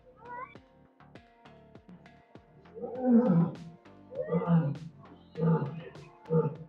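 A lion roars at Lucknow Zoo in a series of deep, throaty bursts, four or five loud grunting calls in a slowing rhythm, close and dominant over faint background.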